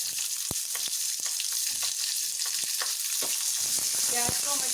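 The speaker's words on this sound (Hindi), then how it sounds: "प्याज को हम अच्छा गोल्डन ब्राउन होने तक भूनेंगे।" Onions frying in a pan after garlic, ginger and cashews, for a vegan stuffed mushroom gravy: a steady, close sizzle with irregular scraping stir clicks throughout.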